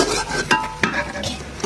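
Whole panch phoron spices sizzle in hot mustard oil, with a steady close crackle broken by a few sharp spatters and stirring scrapes over a short stretch.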